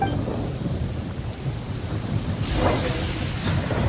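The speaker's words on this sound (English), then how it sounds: "The thunder drowns out all other sounds, hampering my perception of the surrounding environment." A thunderstorm in Genshin Impact brings steady heavy rain hissing across surfaces, with low rumbling thunder rolling beneath and a brighter crackle near the end, loud and close throughout.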